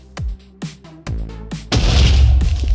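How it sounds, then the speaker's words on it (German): Booming explosions in the video game Nightmare wargear, several heavy blasts in quick succession that build into a loud, sustained rumbling roar. "Das hier explodiert."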